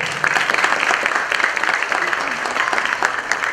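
Applause from an audience at an event for the Marathi film Chirner 1930: dense, continuous clapping from a large crowd, steady and fairly loud throughout, with no talk over it.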